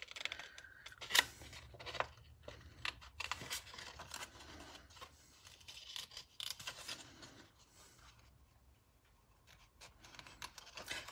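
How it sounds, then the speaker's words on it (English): Scissors snip and rasp through paper to free a cut leaf shape for a paper-pieced stamping project, close and brisk, with rustling and crinkling between the cuts. "So I'm just going to cut in here to get this leaf out."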